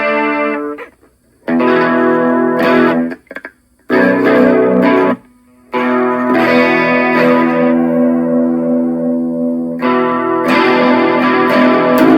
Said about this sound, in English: Alright, here we go with chorus.